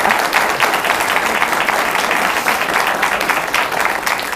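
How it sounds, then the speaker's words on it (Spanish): A studio audience of students bursts into sustained, loud applause, dense clapping holding steady throughout with only a faint voice beneath it. "Son los estudiantes y tienen que aplaudir"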